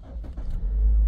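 A 2018 Toyota Voxy engine starts from inside the cabin: a few faint clicks, then a low rumble builds and settles into a steady, quiet idle.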